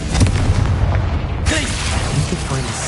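A Confringo fire-blast spell goes off in a video game with a sudden loud explosive burst about halfway through, followed by a rumbling tail under a continuous low game soundscape, with a voice briefly heard.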